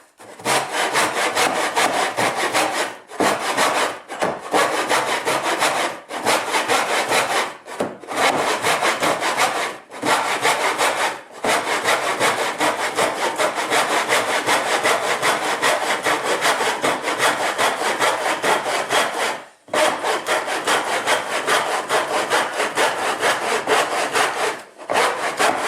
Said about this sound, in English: I can use a miter box like this, or a back saw.